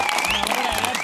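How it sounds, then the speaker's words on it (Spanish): A studio audience applauds on a televised cooking show, a dense and steady wash of clapping mixed with background music. "Chicos, un aplauso para"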